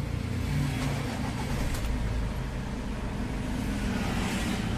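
A Ford Everest diesel engine, one with leaking injectors and weak pulling power, runs steadily after being started again, giving a continuous low rumble that slightly swells and settles at close range, with no voices.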